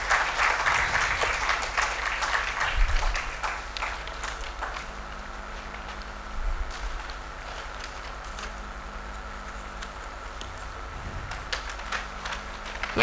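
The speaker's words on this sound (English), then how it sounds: "give them a warm round of applause for that." Applause from an audience at a healthcare innovation challenge launch swells at first, then thins to scattered clapping and a low murmur, with a few louder bumps along the way.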